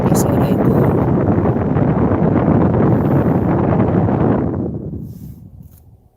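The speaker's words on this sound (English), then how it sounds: "A lot of wind." Wind buffeting a microphone placed next to a vent, a loud, close, roaring rumble that dominates for about four seconds and then dies away, with people talking faintly.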